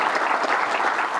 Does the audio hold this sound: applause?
yes